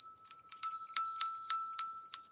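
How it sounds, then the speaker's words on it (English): A small bell rings in a quick series of about eight bright, metallic strikes, each with a short shimmering decay, close and clear with no talk. "Let me ring my bell."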